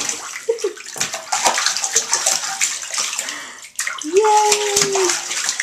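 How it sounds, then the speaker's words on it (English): A young child splashes water in a bathtub, making close, choppy sloshes and slaps while the child squeals and an adult speaks. "Splash, splash!"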